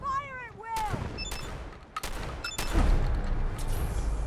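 Gunfire during a Fallout 4 video game battle against creatures emerging from fog: sharp shots crack out in quick succession over a rumbling background, with a voice shouting amid the fighting.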